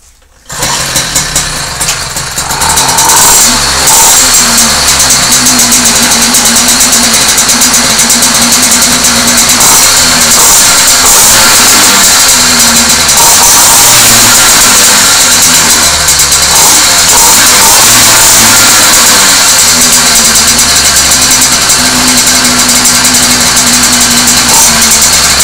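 A 66cc two-stroke engine on a motorized bicycle fires up and then runs loud and close, with a raspy buzz that rises and falls as the throttle is worked and no talking over it.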